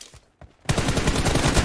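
Video game gunfire in a close-quarters shootout: two faint shots, a brief gap, then a sudden loud burst of rapid automatic fire sustained to the end.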